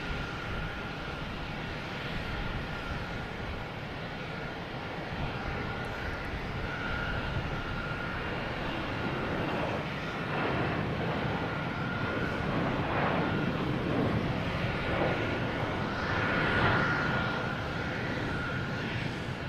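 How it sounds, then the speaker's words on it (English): A Flexjet business jet takes off at Boston Logan Airport, with a steady, loud engine roar that swells gradually and is mixed with broadband wind noise over the whole stretch. "So this is the flex jet heading to Santa Ana."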